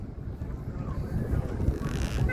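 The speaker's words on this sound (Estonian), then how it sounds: "Siin on meil siis sadam." Wind buffets the microphone at a harbor on Rhodes, with a rumbling wash of water and boats beneath it and no clear talk.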